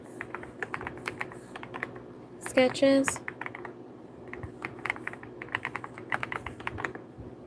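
Rapid computer-keyboard typing as names are entered live, a steady patter of close, crisp key clicks running throughout, with a person talking over it.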